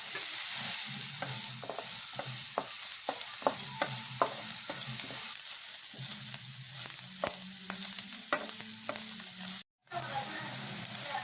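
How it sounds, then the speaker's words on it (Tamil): Onion, garlic, dried red chillies, chana dal and urad dal sautéing in a pan, with a steady close sizzle and frequent scraping stirs of a spoon, briefly dropping out near the end. "நல்லா வதக்கணும். வெங்காயம் பூண்டும், வரமிளகா, கடலைப்பருப்பு, உளுத்தம்பருப்பு."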